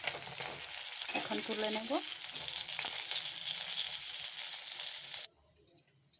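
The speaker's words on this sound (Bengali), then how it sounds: "মাছ কড়া করে ভেজে নিয়েছি" Fish frying hard in hot oil in a pan, a dense close sizzle running loud and steady for about five seconds before cutting off abruptly, with a short spoken remark partway through.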